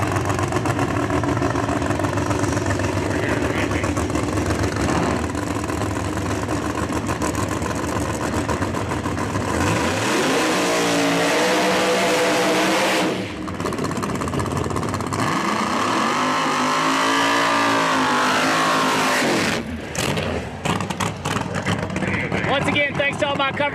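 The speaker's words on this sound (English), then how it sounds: "Top alcohol funny car up next." A top alcohol funny car roars down the drag strip at Cecil County Dragway during an NHRA divisional event, with a loud, sustained engine blare, two rising-and-falling high-revving surges, and an announcer talking over it.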